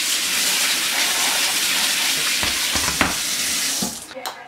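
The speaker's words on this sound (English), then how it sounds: "we've got to wash a fair amount of the starch off of the rice" Sushi rice is being washed in water to rinse off starch, giving a steady running, splashing wash with a few sharper knocks near the end before it cuts off.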